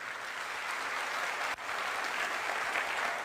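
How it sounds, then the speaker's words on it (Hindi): A large audience at an AWPL wellness event in Rewa breaks into loud, continuous applause, a thick, unbroken roar of clapping that holds steady for over three seconds with only a momentary dip. "एक जोरदार तालियां होनी चाहिए"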